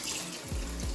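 Kitchen tap running warm water into a sink while baking, a loud, steady splashing gush close by with a slight shift in tone partway through.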